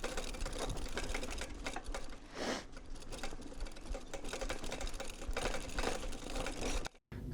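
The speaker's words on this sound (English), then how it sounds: "Just rattling away here over these narrow paths." Bicycle rattling steadily over narrow autumn paths in Utrecht, a dense continuous clatter and whir close by, with a brief dip near the end.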